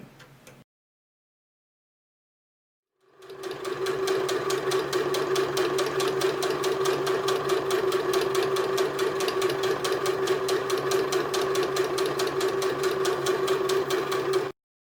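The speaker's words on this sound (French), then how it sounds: "on va faire une petite couture sur le bord, à quelques millimètres au mieux" A sewing machine stitches along the edge of a fabric shopping bag, starting after a brief pause and running steadily for about eleven seconds with a fast, even mechanical whir and clatter, close and loud, then stopping.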